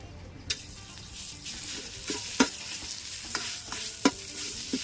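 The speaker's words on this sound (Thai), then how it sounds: "คั่วกับน้ำมันนะครับน้ำมันต้องใส่หนักนะครับ ใส่ไฟอ่อนนะครับตอนนี้ครับ" Thai beef curry ingredients being stir-fried in plenty of oil over low heat: a quiet, steady sizzle broken by scattered scraping and tapping strokes of a utensil against the pan.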